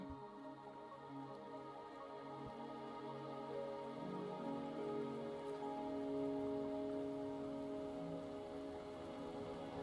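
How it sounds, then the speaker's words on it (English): Steady rain in a video game patters softly and evenly beneath a quiet, sustained musical drone, with no voices. "Trapped here by the rain."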